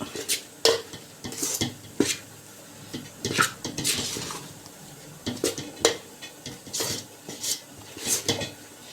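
Flour dough being stirred for sweet pooranam kozhukattai, a spoon scraping and clanking against a metal vessel in quick irregular strokes, close and fairly clear, with no talk over it.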